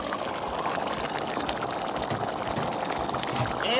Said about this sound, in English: Now I'm going in with the clams